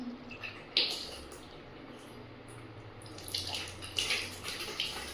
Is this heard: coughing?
no